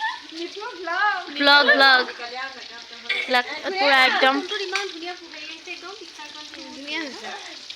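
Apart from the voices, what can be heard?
fish frying in a pan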